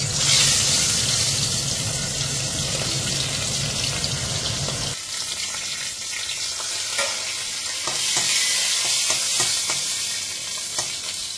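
Whole cloves, cinnamon and cardamom sizzling in hot oil for tempering: a loud, steady frying hiss fills the first five seconds, then thins to a softer crackle with scattered pops and stirring clinks.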